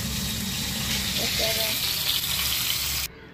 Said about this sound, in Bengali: দেখো মাছ ভাজাও হয়ে এসছে